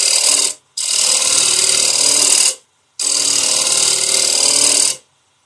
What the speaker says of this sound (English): You can get much more specific with the negative rake scraper, much closer in